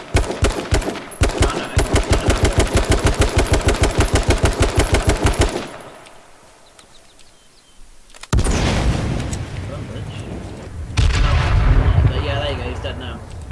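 Sustained rapid automatic gunfire in The Division, a steady rhythmic burst lasting several seconds, then a pause and renewed heavy firing with explosive booms, loud and close in a chaotic firefight.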